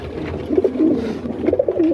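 Pigeons coo at close range, a run of throaty rolling calls that rise and fall in short bursts from a flock of about twenty-five birds kept in Punjab, with no talking.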